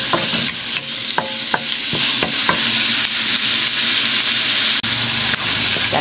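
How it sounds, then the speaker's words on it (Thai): Squid and shrimp sizzle and hiss steadily in a hot pan while being blanched to release their water, with repeated stirring clinks throughout. "เพราะว่าหมึกเขามีน้ำออกมาเนาะเราต้องลวก"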